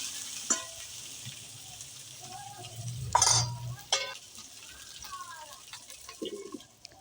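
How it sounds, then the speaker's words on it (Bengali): Chopped vegetables fry in a pan for a small-fish curry, a low steady sizzle with stirring scrapes and clatter, and a louder burst partway through. "দিয়ে খানিকক্ষণ চাপা দিয়ে দিয়ে একটু ভেজে নেব"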